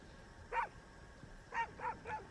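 A dog barks in four sharp, mid-loud yaps: a single bark, a pause, then three quick barks in a row, with no talk over them.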